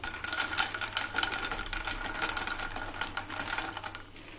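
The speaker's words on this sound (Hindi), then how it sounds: "दूसरा पैन मैंने रखा है, थोड़ा सा हम घी डालेंगे, मखानों को फ्राई करना है, यानी कि रोस्ट करना है।" Fox nuts (makhana) roast in ghee in a pan on a low to medium flame, with a continuous light rattling crackle and soft clatter as they are stirred. No voices are heard.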